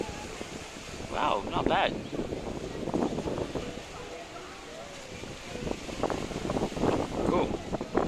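Strong wind buffets a phone microphone outdoors, a continuous rough rumbling roar with gusty swells, while someone talks over it.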